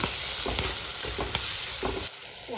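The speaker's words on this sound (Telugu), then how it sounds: "తగినంత పసుపు, ఉప్పు వేసి వేయించుకుంటే మెత్తబడుతుంది." Tomatoes with turmeric and salt fry in oil for a dry fish and brinjal curry, a steady near sizzle under repeated spatula scrapes, quieting abruptly near the end.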